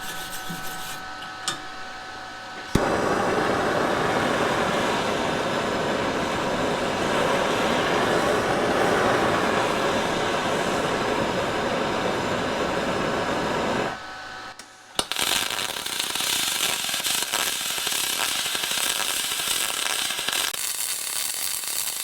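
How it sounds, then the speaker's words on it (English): Aluminum being MIG welded with a Harbor Freight Titanium spool gun, a steady loud crackling hiss that runs unbroken for about twelve seconds, stops briefly, then gives way to a brighter, hissier continuous buzz. "So we're going to get welding here."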